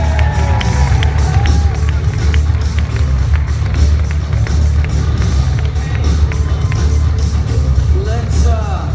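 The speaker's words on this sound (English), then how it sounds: "Let's give Wadia one more round of applause" Convention audience applause and cheering fill a large hall, a dense, steady wash of clapping with scattered whoops, loud and continuous throughout.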